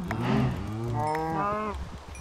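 Cows in Minecraft moo, a couple of drawn-out lowing calls heard close and clear, one after another with no talk over them.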